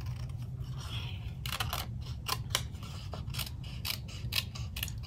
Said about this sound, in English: You take your scissors and just trim this.